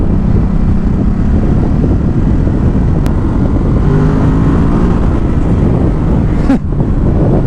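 A Ducati Supersport S motorcycle engine drones steadily and loudly while riding in sixth gear, buffeted by heavy wind rush, with a brief sharp click near the middle and a short dip near the end.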